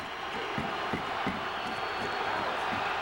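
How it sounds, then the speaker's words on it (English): Arena crowd noise at a National Lacrosse League game between the New York Saints and Philadelphia Wings, a steady, dense roar of cheering voices with scattered shouts and thumps throughout. "Crowd getting involved."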